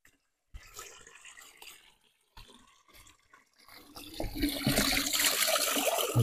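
Ice-cold spring water runs from a source at Söğüt in Çardak, Denizli, starting as a soft trickle and swelling into a louder, fuller splashing flow toward the end.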